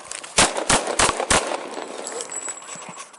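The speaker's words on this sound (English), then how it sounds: "Shots fired! Oh shit! Shots fired! Shots fired!" Four loud, sharp gunshots ring out in quick succession during a police incident in Charleston, then fainter shots follow amid background noise.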